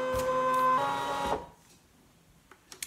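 A Brother ScanNCut machine scanning, producing a loud steady mechanical whir with a rising motor tone that stops abruptly after about a second and a half, followed by a few faint clicks.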